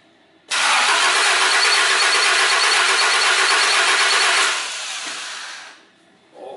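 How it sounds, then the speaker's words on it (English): A small engine is cranked during a spark plug test with an inline spark tester and roars at high revs for about four seconds, then drops to a lower running note and dies away. "now then I start the engine again."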